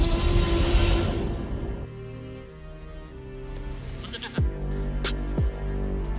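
A blocky goat in the Jurassic Blocky video game lets out two short bleats near the end, rising over a steady, tonal game background with no talking.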